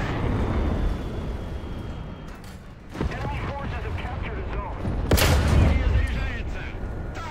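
Tank cannon fire from a modern Russian light tank in War Thunder, with heavy booming shots and rumbling blasts, one sharp loud shot near the end, under continuous engine rumble and background noise.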